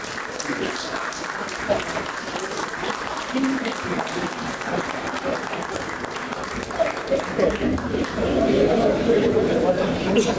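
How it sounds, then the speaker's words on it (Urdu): A meeting audience claps steadily throughout at a business chamber's annual general meeting, a dense roomful of applause that swells louder toward the end, with voices mixed in. "آپ سب لوگ کھڑے ہو کے ان کی تالیوں کا جواب دیں، تالیوں میں۔"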